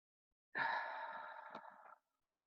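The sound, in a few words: deep breaths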